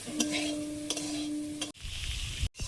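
Raw vegetables fry in a pan with a steady, close sizzle, stirred a few times with brief clatters and one sharp break near the end; no talk.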